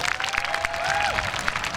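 Crowd applause for a football coach being introduced at a Notre Dame youth football camp, steady dense clapping through the whole moment with cheering-like tones over it.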